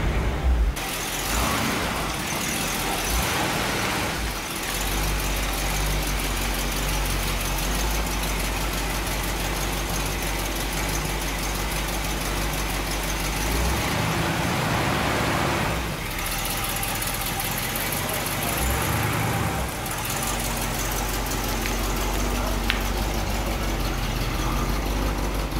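A 1964 Cadillac engine idles with a steady low rumble, close by, holding a continuous drone with slight shifts in intensity.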